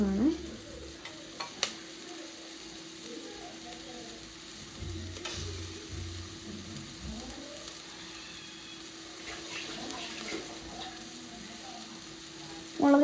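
Onions and chillies sizzle steadily in a frying pan while being stirred, with occasional scrapes and clinks against the pan over a continuous low frying hiss.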